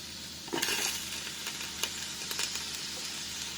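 Chopped turnip tipped into a pot of seasonal vegetable soup and stirred, a soft rustling scrape with a few brief clacks, quiet and close, set against a faint steady sizzle.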